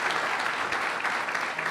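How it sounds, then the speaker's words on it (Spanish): A church congregation applauds during a Spanish-language sermon, producing a soft, even wash of clapping from many hands. The clapping sounds somewhat distant and steady across the short moment, with no voices. "se le da un aplauso al Señor"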